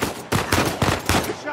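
Gunfire rattles in Uncharted 4, several loud rapid bursts of shots in quick succession, close and sharp, with no talking over them.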